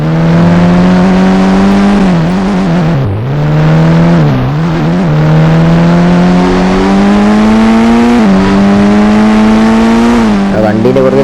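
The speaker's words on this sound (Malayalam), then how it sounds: "നമുക്ക് വണ്ടി ഓട്ടിക്കാം ഗൈസ്." A Lamborghini in the Indian Bike Driving video game revs hard while driving, a loud, close, continuous engine whine that dips and surges with gear changes and throttle shifts.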